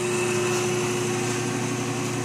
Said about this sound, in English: Just a grinder.